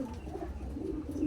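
A pigeon or dove coos softly nearby in a short, low, rounded call from a rooftop, with a faint murmuring background.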